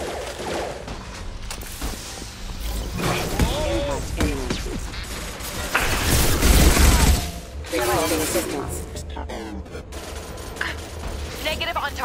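A loud shootout in the video game Mass Effect 2 fills the scene with rapid bursts of gunfire, crashes and mechanical clatter, peaking midway, while voices speak over the combat.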